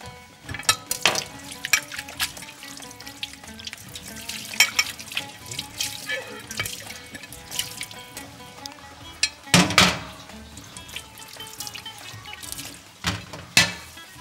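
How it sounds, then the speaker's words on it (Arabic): Running tap water as a plate is washed in a kitchen sink, a steady close stream broken by irregular splashes and clatters of the dish, with a couple of louder bursts near the end; no talking. "نغسل طبقنا."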